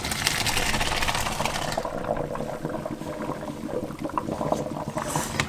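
Boiled macaroni pasta being poured from a pan into a drain, a rushing, splashing pour of hot water that is loud at first, then thins to a lighter trickle with scattered spatters.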